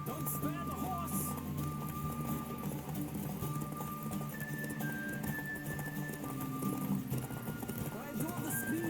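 Steady galloping hooves of a horse in The Witcher 3: Wild Hunt clatter continuously with a faint whinny, set against a busy game soundscape with music-like tones and a voice talking over it.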